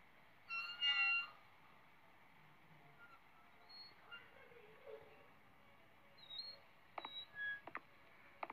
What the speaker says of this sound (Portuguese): Barulho de bebê chorando.